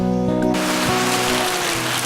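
Steady rain falls and patters on surfaces outdoors in Kapalong, a dense continuous hiss with a few low knocks and thumps underneath.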